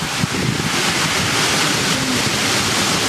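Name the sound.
strong storm wind gust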